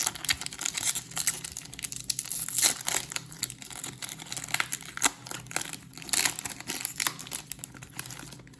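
Genshin Impact card packs being torn open and crinkled, with bursts of crisp plastic foil crackling and short ripping sounds recurring irregularly, close and fairly loud, no voices.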